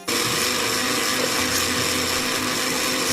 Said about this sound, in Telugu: మిక్సీ తిప్పాలా?